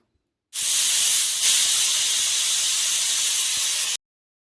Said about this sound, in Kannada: ಕುಕ್ಕರ್ ಲಿಡ್ ಕ್ಲೋಸ್ ಮಾಡಿ ಎರಡು ವಿಸಲ್ ಕೂಗಿಸಿದ್ರೆ ಸಾಕಾಗುತ್ತೆ